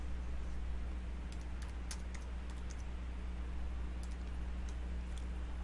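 Typing on a computer keyboard while entering a returned item into an order, soft scattered key clicks in short bursts over a quiet background hum.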